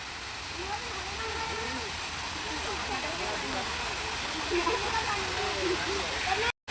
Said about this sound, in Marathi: वरतून मस्त असं पाणी येत आहे